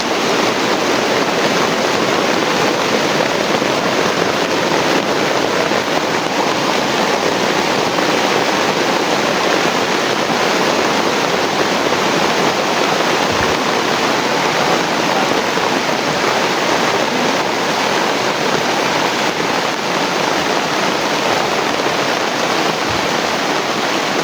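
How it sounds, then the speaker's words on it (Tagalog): Dense, steady rush of heavy rain pouring continuously, loud and close, with a constant hiss and no pauses or voices. "Ito, sobrang lakas ng ulan tol, pasilong muna kami"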